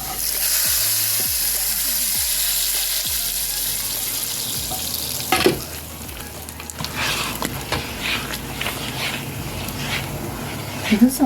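Onion, garlic, dried chili and cumin tempering hits cooked bottle gourd dal with a loud, steady sizzle and crackle, sharp pops and stirring clatter rising over a continuous bright hiss, with a voice speaking over it.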